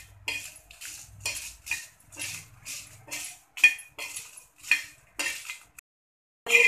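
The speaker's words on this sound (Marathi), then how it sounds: "अगदी कोरडे ड्रायच भाजून घ्यायचे आहेत." Chilies and spices dry-roasting in a pan for Khandeshi chicken curry, heard as a rhythmic series of metal spoon scrapes and clinks against the pan, about a dozen strokes, close and clear with no talk.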